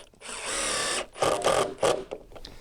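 A power drill drives screws into deck boards, with a sustained whirring run followed by two shorter bursts as screws seat into the wood, loud and close, with no speech.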